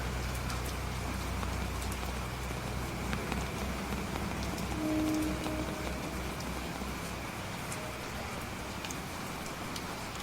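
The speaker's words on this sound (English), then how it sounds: "I woke up to the sound of the rain pounding against my apartment window" Steady heavy rain pounds against a window nearby, a constant dense hiss with scattered louder drops and no voices.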